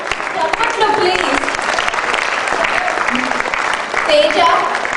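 An audience at a Telugu speech event breaks into sustained applause, dense clapping filling the hall, with voices talking over it.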